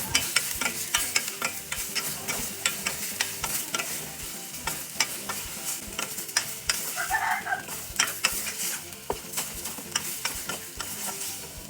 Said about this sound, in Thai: ผัดคลุกเคล้าให้เข้ากัน หรือผัดให้ไก่สุกเลยค่ะ